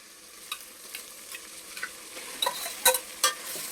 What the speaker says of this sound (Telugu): ఈ పచ్చి రొయ్యల్ని దీంట్లో వేస్తున్నాం